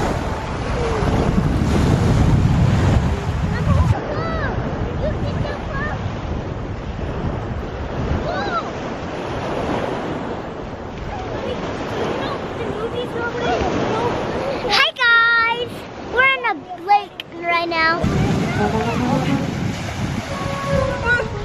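Ocean waves wash ashore on a private beach along the Lake Erie coast near Huron and Port Clinton, Ohio, a broad roar buffeted by strong wind noise on the microphone, with people speaking nearby.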